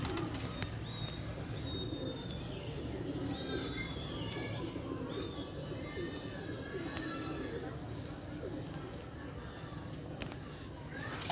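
Pigeons coo and flutter amid a busy Sunday bird market in Multan, including a pair of Batera pigeons, with calls and wing flaps over steady crowd chatter.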